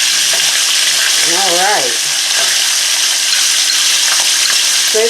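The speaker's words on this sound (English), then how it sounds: "Get a good sear on all sides, and including even the ends." Beef short ribs sear in a hot pan with a loud, steady sizzle that runs throughout, broken once by a brief spoken remark near the start.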